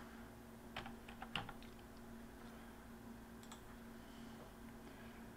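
A computer keyboard being typed on to enter a motor's part number into a search bar; a few quiet, quick clusters of key clicks over a steady low room hum.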